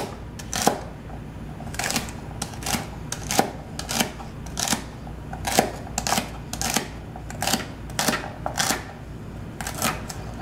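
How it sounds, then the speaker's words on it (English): A knife dices celery on a cutting board, each sharp chop landing alone in a loose, regular rhythm over about ten seconds, close and clear with no talking. "you chop it into 3 sections just like that, and then you just sort of dice it"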